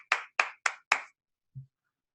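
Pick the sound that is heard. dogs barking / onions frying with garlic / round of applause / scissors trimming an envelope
round of applause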